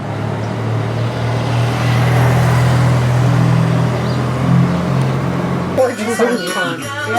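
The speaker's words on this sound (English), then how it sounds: "Cool truck." A heavy vehicle's low engine drone rumbles past, steady and fairly close, and a voice speaks briefly at the end.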